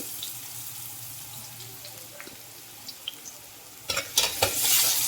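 Drumstick leaves with salt being stirred in a pan, with quiet scraping through the first part and louder, busier stirring and clatter toward the end.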